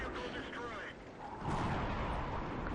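A heavy tank cannon booms and a shell strikes the side of the Object 263 tank in a tank combat video game, a dense, loud roar of blast and rumble filling the whole short stretch without pause.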